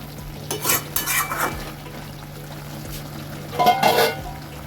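Drumstick and shrimp curry with mustard oil and slit green chilies being stirred in a pan, with a few clustered scraping and clinking bursts of utensil against cookware over a low simmering background.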